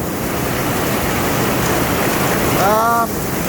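Heavy rain pours on a freshly poured concrete topping floor in a storm, a dense steady hiss that holds throughout with a brief whistle-like tone near the end.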